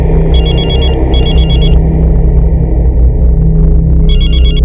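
A telephone rings back on an outgoing call, two close bursts of trilling bell and a third after a pause, loud over a steady low rumble.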